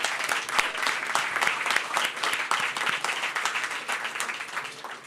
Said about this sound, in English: Let's all give a round of applause for everyone who...